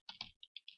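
Quick keystrokes on a computer keyboard, about five close clicks in a short burst, alone and fairly quiet.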